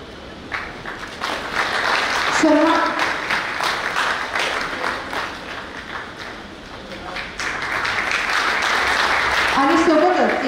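An audience at a lecture event in Akola applauds as guests are welcomed onto the stage, a steady wash of clapping that swells toward the end while someone speaks over it.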